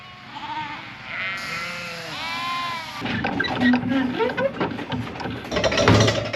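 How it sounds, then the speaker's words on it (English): Lambs bleat loudly and repeatedly, several overlapping cries close by, as they are moved over a fence; a low engine idles beneath, and jostling and clattering noises fill the second half. "Last few lambs over the fence."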